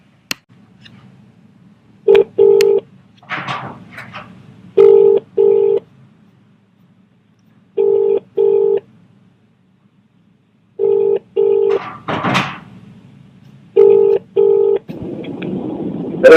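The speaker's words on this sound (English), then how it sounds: "So we're going to give Craig a call and give him the good news" An outgoing phone call: a series of paired keypad dialing tones in separate bursts, then ringback tones, loud and close, with brief clicks between and no talking.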